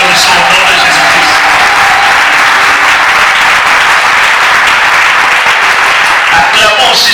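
Dense, steady applause from a church congregation fills the hall, broadband and continuous throughout, with a voice faintly mixed in beneath the clapping.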